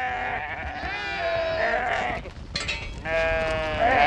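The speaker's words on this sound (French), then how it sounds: "comment dresser une brebis meneuse" A trained lead ewe on a mountain farm bleats loudly and up close in long, wavering cries, with a short break between calls.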